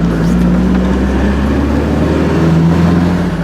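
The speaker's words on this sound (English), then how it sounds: "motoring al fresco in an Alfa Romeo" An Alfa Romeo GTV convertible drives along with its top down, a steady engine drone and low road rumble holding an even, close level throughout with no pauses.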